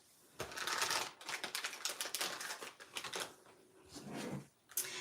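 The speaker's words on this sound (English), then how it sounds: "So then we'll trim off the ends like that." Paper ends are trimmed for a handmade Stampin' Up card, heard as close, crisp rapid clicking and scraping strokes in uneven bursts, with brief pauses between cuts.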